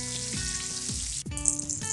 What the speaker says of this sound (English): Now I'm gonna fry these prawns till it is turning golden brown.